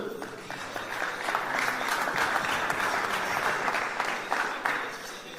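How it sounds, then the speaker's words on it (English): Sustained applause from a large audience at a graduation ceremony honouring a graduate, steady and dense throughout with scattered individual claps standing out. "Let's clap for her once again."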